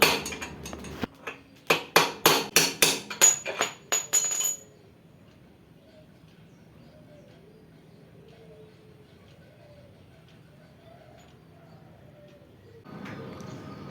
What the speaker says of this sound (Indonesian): Kita pahat sekeliling bearingnya pelan-pelan sampai lepas.